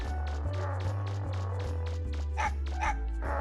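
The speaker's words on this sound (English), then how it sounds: "it was a territorial dog and didn't back off" Repeated barking of a territorial dog in the Mega Man Legends video game, a steady run of sharp yips and barks over a constant low game drone, close and fairly loud.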